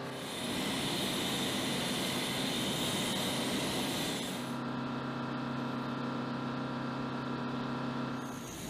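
A special operations transport aircraft with four Rolls-Royce AE2100 turboprop engines drones steadily and loudly, a broad roaring hum with a strong low tonal whine that shifts partway through as the engines change pitch.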